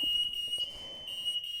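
A home alarm system going off in the morning gives a steady, high electronic tone that keeps sounding with brief breaks, moderately loud and with no talk over it.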